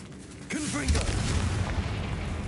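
A Confringo blasting spell goes off in Hogwarts Legacy, a booming explosion that rolls in about halfway through and rumbles on loudly, with game noise and voices under it.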